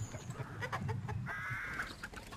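Hens cluck and murmur close by on a farm in Oxfordshire, with several short calls and a drawn-out squawk rising over a steady low farmyard chatter.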